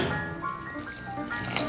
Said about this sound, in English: all you have to do is pour that warm water